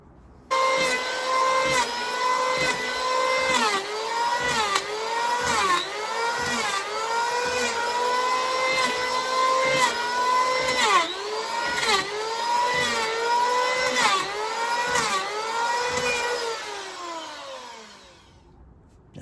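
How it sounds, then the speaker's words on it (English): A power planer shaves wood for a boat's rudder and deadwood, running steadily for most of the stretch, droning and whining with repeated cutting surges, loud and close, then winding down at the end. "the power plane is just way quicker as far as I'm concerned"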